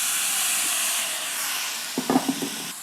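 Apples, leeks, carrots and parsnips fry in a pot for a chicken curry, giving a steady broad sizzle throughout with a few louder crackles and spits near the end; no talking.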